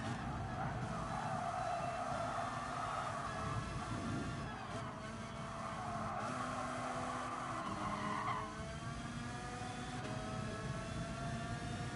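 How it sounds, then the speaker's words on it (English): Race car tires squeal and skid as a car drifts sideways through a hairpin in Gran Turismo Sport, a sustained screech over engine drone, steady and moderately distant, fading slightly near the end. "somebody was just drifting sideways over the apex of the hairpin there"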